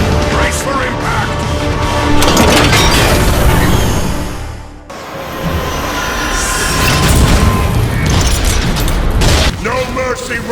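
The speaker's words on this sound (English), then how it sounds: "We're taking heavy fire! Brace for impact!" Heavy explosions and booming impacts in a Transformers video game cinematic, loud and dense with rumbling blasts that briefly drop out midway before another barrage of crashes and debris, with voices shouting over the chaos.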